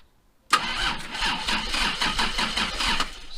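A 1980s Toyota Supra turbo engine cranks abruptly and close, the starter churning in a fast rhythmic chug for about three seconds without the engine catching.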